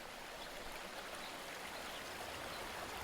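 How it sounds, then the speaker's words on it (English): River streams and waterfalls flowing steadily, a soft, even wash of rushing water that holds constant throughout, faint and distant with no voices. "Its multiple streams and waterfalls provide a soothing backdrop to a relaxed day of hiking and sightseeing."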